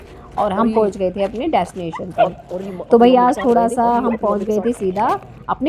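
Small puppies and their mother dog yip and whimper in high, rapid bursts throughout, close by and mixed with someone talking over them during a morning walk.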